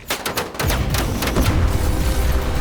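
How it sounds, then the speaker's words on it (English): A sharp burst of gunfire cracks out in rapid shots, followed by a deep, sustained rumbling blast as a boat explodes on the water at night, filling the rest of the moment, loud and close. "an explosion throws Liana into the sea, and the boat bursts into flames"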